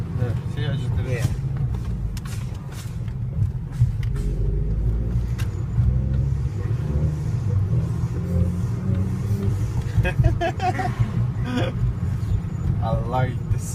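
Cabin rumble of a Stage 1 VW Mk5 during a ride along, engine droning and rising with quick shifts, with people talking over the steady road noise.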